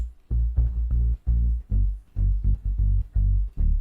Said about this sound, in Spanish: el bajo debe tener su sidechain,